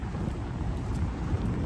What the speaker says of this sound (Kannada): ಸಿಕ್ಕಾಬಟ್ಟೆ ಗಾಳಿ ಬೀಸ್ತಾ ಇರುತ್ತೆ ವಾಯ್ಸ್ ಬ್ರೇಕ್ ಆಗ್ತಾ ಇರುತ್ತೆ